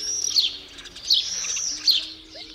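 A starling mimics the chirping call of a house sparrow, giving three bright, high chirps spaced evenly over a faint steady hum, with no voices.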